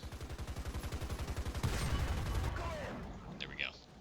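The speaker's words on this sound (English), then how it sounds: "Just hoping machine gun fire either distracts him" A PZ-35 tank's machine gun in War Thunder rattles in a fast, steady stream of about twenty rounds, followed by a heavier blast with a long rumbling tail and a faint later impact, with a voice talking over it.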